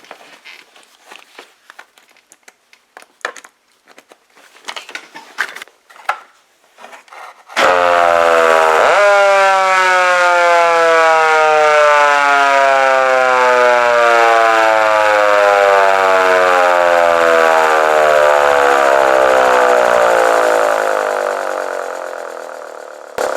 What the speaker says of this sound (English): if you're running a Siren, go ahead and put your hearing protection on